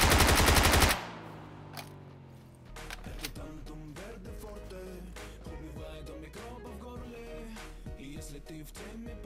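PUBG gunfire: a dense, rapid automatic burst lasting about a second, loud and close, then quieter scattered sounds afterward.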